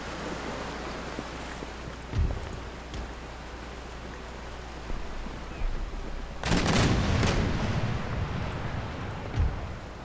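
Ship cannons fire in a naval battle in the game Empire: Total War, heard as dull distant booms, one early and a heavier volley of blasts later over steady ambient rumble.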